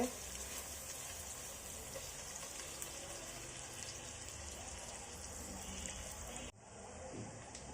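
Sliced onions frying in oil in a pan until golden brown for prawn biryani, a steady soft sizzle throughout with a brief stir or shift near the end, quiet and without talk.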